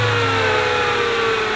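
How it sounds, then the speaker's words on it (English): A car engine idling steadily after oil with UV fluorescent dye has been poured in, a loud, close, even mechanical drone with no breaks. "Then you run the engine to circulate it."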